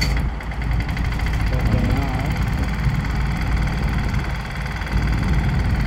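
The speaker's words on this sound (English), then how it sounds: "he is going to turn on the equipment. Turn on the motor." Motor of rapid dynamic compaction equipment runs with a steady, loud mechanical drone and rumble throughout, with people talking over it.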